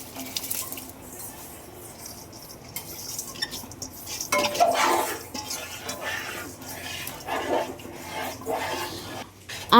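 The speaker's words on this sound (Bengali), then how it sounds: "এখন এখানে আমরা চালটা দিয়ে দেবো।" Rice tipped into a pot of spiced water boiling with white oil for home-style chicken biryani, giving soft rattling, clinking and stirring under a steady bubbling wash, with a louder splashy burst midway.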